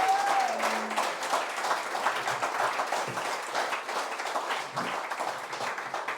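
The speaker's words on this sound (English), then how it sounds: "Give them another round of applause there, please." Audience at a championship preview panel event giving a round of applause, dense sustained clapping from a crowd that carries on steadily, with a brief voice at the very start.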